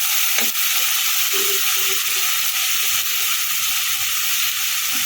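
A tomato, garlic and chilli paste with turmeric sautéing in a pan for potato curry, a steady close sizzle and hiss with a few soft stirring clicks, no voices.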